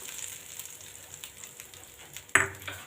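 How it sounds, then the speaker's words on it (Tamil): Hot mustard seed and dried chilli tempering is poured into coconut chutney, a sudden sharp sizzle that bursts out after quiet kitchen background and then fades. "நம்ம தாளித்ததை சட்னியில் ஊற்றிடலாம்"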